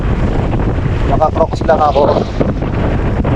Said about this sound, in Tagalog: Yung dampi ng hangin, malakas yung hangin.